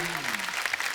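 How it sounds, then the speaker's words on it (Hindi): Studio audience applause on a TV comedy show, a short burst of dense clapping with a voice briefly overlapping at the start. "जोरदार तालियां।"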